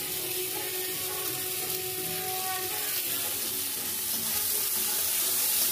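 Boiled chickpeas tossed into a hot frying pan for a vegetarian banana-flower dish with gobindobhog rice, giving a steady close sizzle and frying crackle with light stirring throughout.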